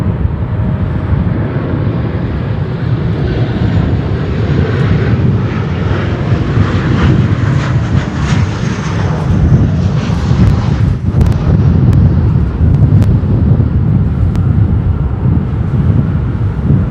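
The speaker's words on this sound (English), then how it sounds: "we welcome Sun Country 737-800, most likely from Minneapolis" Sun Country Boeing 737-800 jet at Chicago O'Hare, a steady loud engine roar that holds for the whole stretch, broadband and rumbling, with wind buffeting the microphone and no voices.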